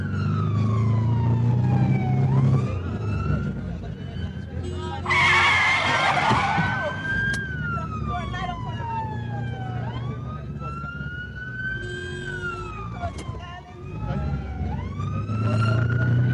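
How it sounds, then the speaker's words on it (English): Wailing emergency sirens rise and fall repeatedly over London traffic noise, loud and close, with a brief burst of harsh noise partway through. "To beat the traffic and jump the lights, they travel on sirens."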